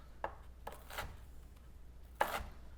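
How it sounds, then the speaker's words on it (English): A knife cutting an onion into thin slices on a cutting board, a few sparse, quiet crisp chops spaced irregularly, close up with no talking. "we're gonna make a whole bunch of real thin slices like this"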